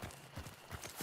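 Horse hooves in the video game Hunt: Showdown clop in a quick, uneven rhythm, with several muffled thuds close by over a soft background hiss and no speech.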